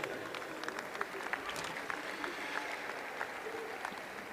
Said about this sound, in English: Round of applause once again for our match officials